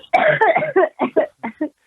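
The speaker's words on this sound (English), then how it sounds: "As she coughs her lungs out" A burst of harsh, hacking coughs, several in a row and fading into shorter spaced coughs, close and loud.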